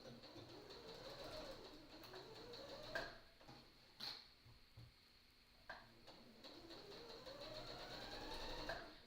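Sewing machine running along the edge of fabric beside the presser foot while making a tote bag: a rhythmic mechanical whir that speeds up and slows between short pauses, close and alone.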